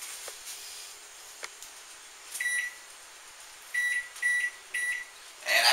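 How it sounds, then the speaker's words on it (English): A kitchen oven timer is set during meat loaf cooking: a series of short, sharp electronic beeps, one and then a quick cluster of three, clear and fairly close over a quiet hum. "Start the timer on this."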